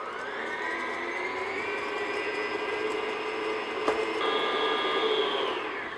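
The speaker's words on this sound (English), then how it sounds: "now I'm going to beat this just until everything's mixed together and it's a little fluffy, just on medium speed" An electric mixer beats chocolate chip cookie batter on medium speed, a steady motor whir with a constant pitch that rises slightly in tone near the end, no talking.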